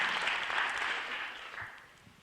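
Applause from a chamber-of-commerce business meeting audience, a dense, steady clatter of many hands that holds strong and then slowly tapers toward the end.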